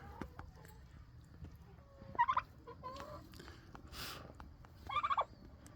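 Poultry call out inside a rain-soaked coop after a hurricane, two short warbling, gobble-like bursts standing out against a low, muffled background.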